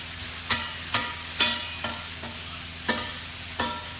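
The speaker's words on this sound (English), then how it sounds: "Give it one last little stir, and then we're going to plate this up, okay?" A spoon stirs ginger beer reduced to a thick syrup in a pan, giving seven sharp scraping strokes at a steady, unhurried rhythm over a low sizzle, close and alone with no talk.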